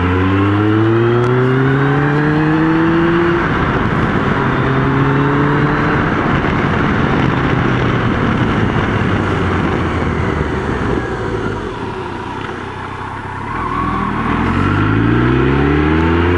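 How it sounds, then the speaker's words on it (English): A motorcycle engine drones steadily with rising and falling pitch as it accelerates, recorded from a helmet-mounted camera with an external windscreened mic, backed by a constant rush of wind noise. "if you can even hear outside wind, outside noise of the bike"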